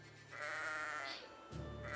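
Sheep bleating in the Kingdom Rush tower-defense game, a wavering, nasal baa repeated in quick succession, fairly clear and close with game sounds underneath and no talking.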